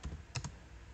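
Code being typed on a computer keyboard in R Studio: a few quick close key taps, two clustered at the start and two more just after, then quiet.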